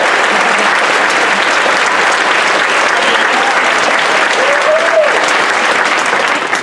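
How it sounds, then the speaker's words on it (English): Audience at a 2022 graduation ceremony applauding the graduating class, a dense steady wash of many hands clapping at full volume throughout, with no speech over it. "can we congratulate and give these kids a round of applause?"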